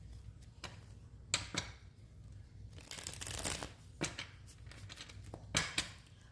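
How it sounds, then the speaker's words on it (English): Tarot cards are shuffled by hand at close range, quiet riffles and soft slaps arriving in irregular bursts, with a longer rustling flurry midway, in an otherwise hushed room. "We got one more shuffle and then we're going to see what's happening for the sign of Scorpio this week."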